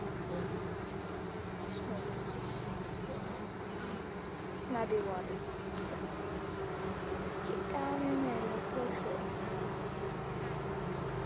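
Honeybees hum softly and continuously around a hive frame while drinking sugar water, a faint close buzz running under a person's quiet talking.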